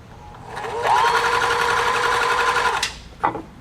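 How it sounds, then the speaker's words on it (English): A Riccar 3400 sewing machine with a broken stitch selector runs steadily for about two seconds, a loud close mechanical whir that stops abruptly, followed by a short clack. "I'll test this real quick and send it off"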